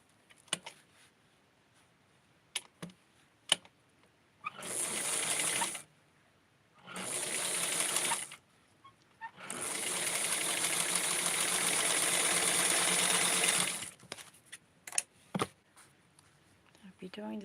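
A sewing machine stitches along the edge of a lace sleeve in three bursts, two short runs followed by a long steady one, with quiet pauses and small handling clicks between them.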